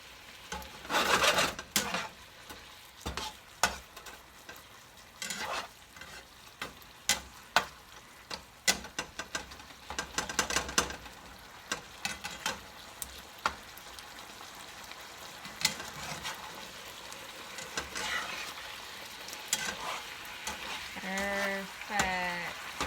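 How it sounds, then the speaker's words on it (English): Mongolian beef sauce simmers and sizzles in a pan, a soft crackling bed broken by scattered clinks and scrapes of stirring, with brief speech-like sounds near the end. "So we're just gonna let that simmer"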